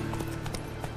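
Horse hooves clip-clop in The Witcher 3 video game, a quick run of several close, even hoofbeats over a steady background hum, lasting about a second with no speech.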